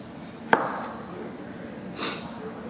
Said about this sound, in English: And I'm going to cut it about an eighth of an inch thick.